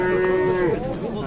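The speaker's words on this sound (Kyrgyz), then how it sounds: "Торпоктуу уйлардан бир экини көрсөтүп берели туугандар." A cow at a livestock market gives one loud, close, drawn-out moo that bends downward toward the end, with bazaar noise behind it.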